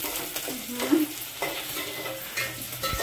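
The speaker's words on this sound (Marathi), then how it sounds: "मिरची टाकल्यावर मिक्स करून घ्यायचं व्यवस्थित." Maggi noodles with chilli are stirred in a pan, giving a near, soft sizzle broken by scraping strokes of a utensil at irregular intervals, with no talk.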